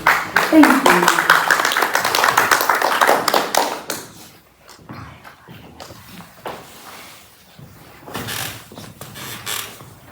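Audience applause after a performance at a Sunday church service, dense clapping loud for the first few seconds, then thinning to scattered claps and faint room noise with a brief swell near the end.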